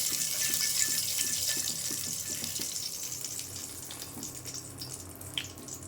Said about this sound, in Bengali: আমি এখন তেলে ফোড়ন দিয়ে দিলাম, সরিষা তেল।